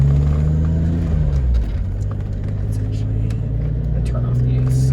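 A 1991 BMW M5 engine drones low and steady while driving, with a dip in pitch as it shifts before settling back into an even cruising rumble.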